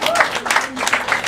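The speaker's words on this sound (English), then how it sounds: "give yourselves a round of applause." A seated audience at a weight-loss talk claps for itself in a short, lively burst of hand claps with some voices mixed in.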